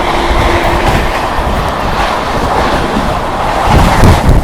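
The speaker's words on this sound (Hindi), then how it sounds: "दिल्ली से निकलते पहली क्रॉसिंग हो रही है अपनी ट्रेन नंबर 12707 आंध्र प्रदेश संपर्क क्रांति एक्सप्रेस" Andhra Pradesh Sampark Kranti Express train passing at speed at a crossing out of Delhi, a loud, close, continuous rushing rumble with rattling wheels that swells slightly toward the end, no voices.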